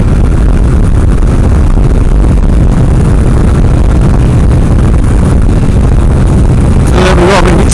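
A Triumph Trident 900 motorcycle engine humming steadily at about 5,000 revs while riding on a damp road, loud and continuous with wind rush over the microphone and a brief clatter near the end.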